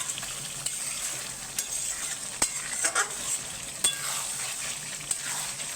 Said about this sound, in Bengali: মাংসটা যত এরকম করে নাড়বে ততই ভালো হবে।